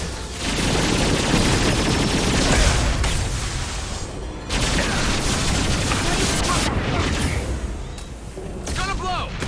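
Heavy gunfire and a grenade blast in the sci-fi shooter Mass Effect 2, a dense, loud, continuous barrage of shots and booms with a brief lull midway, and voices calling out over the fighting.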